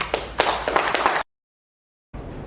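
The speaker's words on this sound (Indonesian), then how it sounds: "Boleh kasih tepuk tangan?" Applause from the audience at a Majelis Ta'lim religious study gathering, a brief burst of irregular hand claps that stops dead in a silent gap before faint room noise returns.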